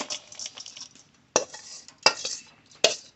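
Flattened rice mixed with jaggery poured out of a pot for making moa, heard as a few sharp, close scraping clatters of metal utensil against cookware separated by quieter rustling.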